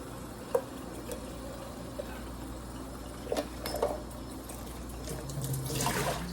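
A kitchen faucet runs water into a sink, with a few splashes and trickles that build into a steadier, louder rush near the end.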